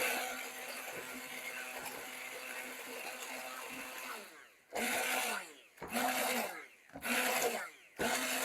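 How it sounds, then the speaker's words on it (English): An immersion blender whirs through leftover filling in bursts, a steady grind for several seconds, then three or four short loud pulses separated by brief pauses. "So I have my immersion blender, and I'm just going to"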